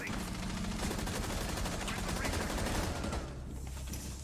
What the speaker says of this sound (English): Oh man, already the gunfight does erupt.